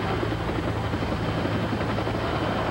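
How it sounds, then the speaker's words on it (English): Steady, dense rotor and engine roar of a Los Angeles County Fire Department rescue helicopter, loud and continuous throughout with no pauses. "A rescue helicopter from the Los Angeles County Fire Department arrived within 12 minutes."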